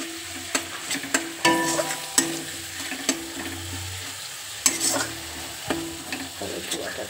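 Tomato paste frying in a pan for a vegetarian banana-flower kofta curry, with a steady sizzle broken by sharp scrapes and clinks of a spoon stirring against the pan, close and fairly loud.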